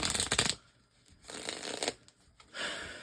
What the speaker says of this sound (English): sometimes you guys like to see me shuffle